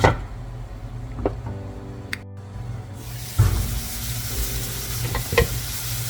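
Long beans stir-frying in a pan for a Kerala sadhya-style mezhukkupuratti, cooking down as the water evaporates: a steady close sizzle with occasional sharper scrapes and stirring knocks, no talking.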